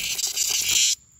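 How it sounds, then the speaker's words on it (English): A cicada buzzes on a hot car, a loud, steady close-up rasping drone that cuts off abruptly near the end, leaving near silence. "Oh my gosh, you little cicada."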